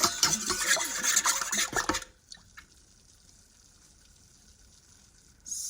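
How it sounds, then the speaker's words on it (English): Warm water being mixed in a bowl with a Danish dough whisk for sourdough, a busy close sloshing and scraping for two seconds that stops abruptly, leaving near silence until a brief hiss returns. "I'm taking my Danish dough whisk and I'm just going to mix these together before I add the flour"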